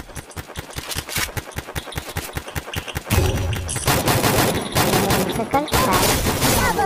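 Rapid automatic gunfire from a shooter video game, a fast regular burst of shots for about three seconds, then denser, louder overlapping fire and explosions filling the rest, with a brief spoken word mixed in.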